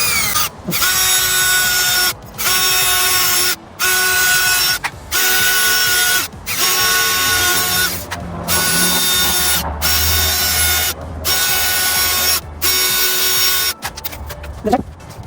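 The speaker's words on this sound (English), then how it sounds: "and drilling through each one of these" A power drill with a 1/8 inch bit whirs loudly in repeated bursts while drilling holes in a Parker 2320 SL boat, each run lasting a second or two with short pauses between, ending in a brief rattle.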